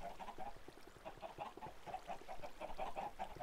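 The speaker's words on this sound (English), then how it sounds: "Chicken." Repeated clucking from Minecraft chickens on a chicken farm, a steady run of short clucks close by with no talk over it.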